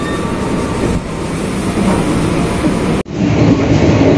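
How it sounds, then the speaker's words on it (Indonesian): Interior of the Cikuray passenger train heading toward Karawang station, with a steady loud rumble of the moving carriage and a brief dip near the end as the sound suddenly narrows. "Setelah ini kereta api Cikuray akan berhenti kembali di stasiun Karawang"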